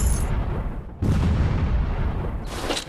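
A grenade goes off in a 3D first-person counter-terrorist shooting game, with a heavy booming blast and then another deep, rumbling explosion about a second later, loud and dense throughout.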